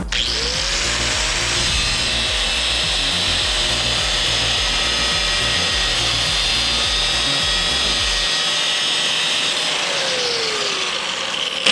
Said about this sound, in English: So that's what we're just cutting the chain out.